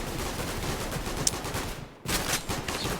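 Gunfire in a first-person shooter game, a steady, dense, loud stream of shots with one sharp crack partway through and a brief dip before firing resumes.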